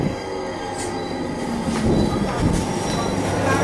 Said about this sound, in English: The train looks quite crowded, you know. I doubt I'll be able to enter the train